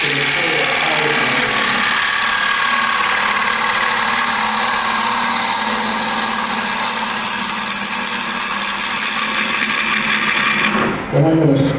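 A gouge takes a roughing cut into thick wood spinning on a lathe, a loud continuous droning rumble with steady cutting noise that drops off abruptly near the end.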